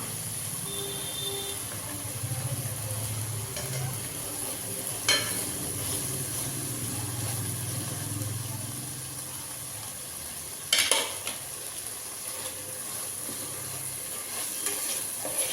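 A spoon or spatula stirs a snake gourd stir-fry mixed with cooked moong dal in a pan. There is a steady low sizzle with scraping strokes throughout and a couple of sharper knocks against the pan.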